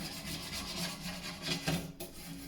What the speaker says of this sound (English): this is going to take a little bit more scraping here because again, there was food cooked on that thing over the years